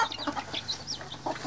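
Chicks and hens at a rural Vietnamese home cluck and peep in quick, close bursts with no talk over them.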